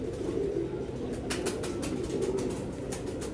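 A breeding pigeon coos softly and repeatedly at close range, with low murmuring calls over a steady background hum and no one speaking.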